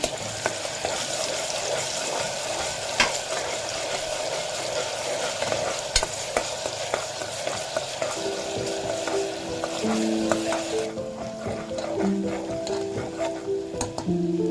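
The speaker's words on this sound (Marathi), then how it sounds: "कांदा चांगला गोल्डन करून घेऊया।" Onions frying until golden for Malvani-style misal, a steady close sizzle with intermittent clicks of a stirring spoon, softening near the end as a faint tonal hum joins it.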